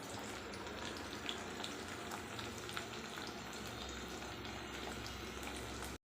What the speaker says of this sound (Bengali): ওই মাছটা ভাজা বসিয়েছি